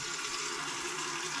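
Warm water, 2.5 cups at 110 to 120 degrees for brown bread dough, pours steadily into a mixing bowl as a continuous hissing, splashing rush, close and even throughout with no talking.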